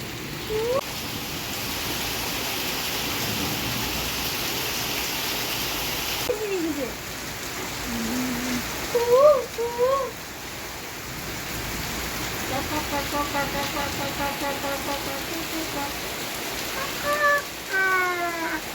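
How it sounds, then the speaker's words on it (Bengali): Steady heavy rain hisses throughout, broad and continuous, with scattered bird calls and a few brief chirps rising above it near the end. "এদিকে মুসুলধারে বৃষ্টি হচ্ছে"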